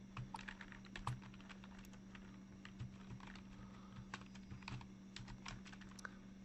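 Typing on a computer keyboard while writing in MS Word: a quiet, steady run of light key clicks in an uneven rhythm over a faint constant hum.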